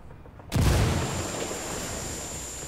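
A thrown frag grenade exploding in Ghost Recon Wildlands, a sudden loud booming blast after a quiet moment, followed by a long rumbling decay.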